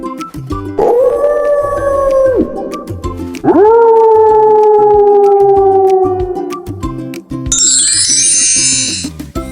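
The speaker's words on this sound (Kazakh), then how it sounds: "Қасқыр және оның күшігі бөлтірік" A wolf howls twice, long sustained tonal wails that rise, hold and slowly fall, loud and close over a light musical backing with chime-like tinkles near the end.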